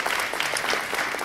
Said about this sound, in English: Audience, let's give another round of applause for all 11 finalists.